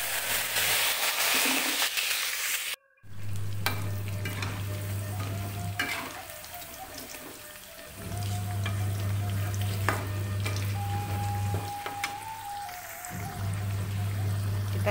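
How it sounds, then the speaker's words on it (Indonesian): Steady sizzling of jengkol beans frying in hot oil, with occasional stirring scrapes and brief gaps in the hiss. "Selanjutnya kita goreng jengkolnya ya."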